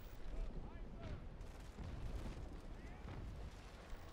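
Ship cannons fire a broadside in the Naval Action sailing game, heard as deep rumbling booms rolling into one another at low volume, with a voice partly over them.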